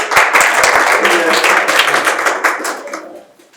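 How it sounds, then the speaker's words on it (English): A meeting audience at a school data review session claps for the participants, a brief burst of close, sharp handclaps that thins out and fades within a few seconds. "Give yourself a round of applause."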